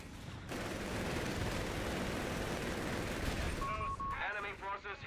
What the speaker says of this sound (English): That's mortar fire!